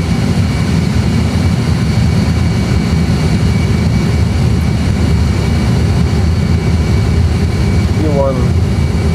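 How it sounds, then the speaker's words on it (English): Airliner jet engines hold takeoff thrust on the runway at Madeira Airport, a loud, steady roar with heavy low rumble throughout, no pauses. "Takeoff thrust is set, we keep on the center line"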